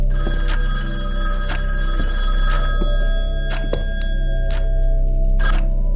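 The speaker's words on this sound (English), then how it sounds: "The phone." A telephone rings repeatedly in a horror video game, its bursts loud and spaced over steady droning ambience, with no voices present.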